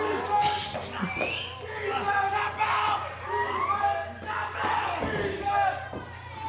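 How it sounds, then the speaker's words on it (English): A wrestling crowd at a tag-team match chants "defense" loudly and rhythmically, the massed voices yelling and surging throughout. "Crowd chanting defense."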